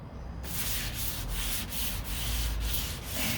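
Sanding the fiberglass passenger door of a 1969 C3 Corvette by hand: close, steady scratchy rubbing strokes in a regular back-and-forth rhythm of roughly two or three passes per second, with no one speaking.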